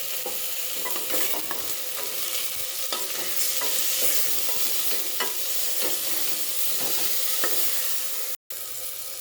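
Onions being stirred and fried in a pot for a chicken vegetable soup: a dense, steady sizzle with repeated scraping strokes of a spoon across the bottom, close and without voices, with a brief dropout near the end.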